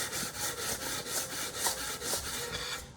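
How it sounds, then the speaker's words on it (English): Hand sanding of wooden decking boards, a steady rhythmic back-and-forth rasping of abrasive on wood, close and fairly loud, repeating about every quarter second with no talking. "It's taking a little bit longer to sand off."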